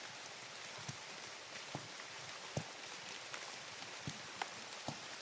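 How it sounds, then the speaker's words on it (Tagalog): Heavy rain falling steadily in a forest setting, a dense continuous hiss with scattered louder drops or taps standing out every second or so, no voices. "Eh, lakas ng ulan."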